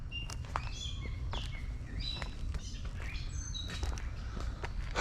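Birds chirp along a park nature trail, a string of short, bright tweets and whistles at varying pitches over a steady low rumble of wind and footsteps.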